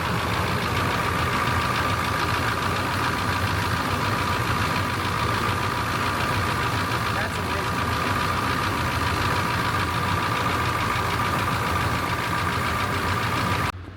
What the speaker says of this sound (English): You can hear all that mechanical stuff in the engine